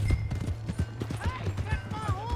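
Hooves clip-clop in a steady, fast, rhythmic beat as a horse moves in Red Dead Redemption 2. A low steady hum sits underneath, and a few short higher calls rise near the end.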